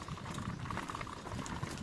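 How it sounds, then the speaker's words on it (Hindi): A nearby river, full of canal water, flows past a riverbank on a cycling outing. It makes a faint, steady bubbling wash with no breaks and no one talking. "बाजू में जो नदी है बह रही है"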